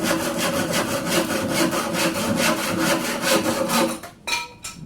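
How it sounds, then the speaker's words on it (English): A handsaw cuts through wood for a beehive in steady, rhythmic back-and-forth rasping strokes, close and loud, ending in a few short scrapes. "quickly cut that, just using a handsaw"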